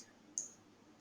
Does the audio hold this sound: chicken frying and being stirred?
no